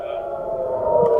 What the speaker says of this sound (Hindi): आज दिन भर इजराइल की राजधानी तेल अवीव में एयर रेड के सायरन बजते रहे